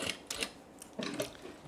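A sewing machine stitches a pocket onto a tote bag in two short mechanical bursts of rapid clatter, close and moderately loud, with a brief pause between them.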